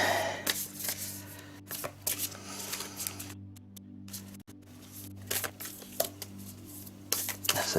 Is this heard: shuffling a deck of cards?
yes